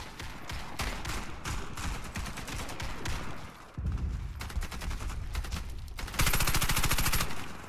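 Sustained bursts of rapid automatic fire from a Calico M955A in the shooter game Warface, loud and close, with a short pause before a denser, harsher final volley.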